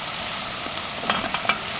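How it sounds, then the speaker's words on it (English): Tomatoes and vegetables sauté in a pan for a South Indian sambar, giving a steady close sizzle with a few soft clicks of a stirring utensil. "Saute it for a few minutes and add salt to taste."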